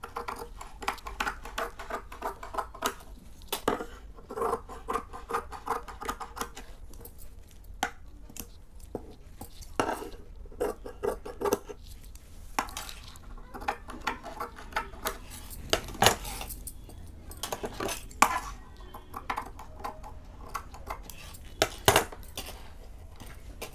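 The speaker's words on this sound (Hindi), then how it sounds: "वो मैं शेप में कटिंग कर रही हूँ।" Scissors snip through blouse fabric being cut to shape for a padded lehenga blouse, giving sparse, close clicks and crunches scattered between quiet stretches.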